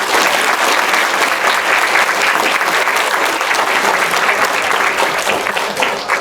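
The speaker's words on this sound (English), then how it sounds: "So please give a round of applause to Mr." Warm, sustained applause from a class of eighth graders for a visiting Holocaust survivor, Mr. Schot, a thick continuous clapping from many hands at close range, slightly fading near the end.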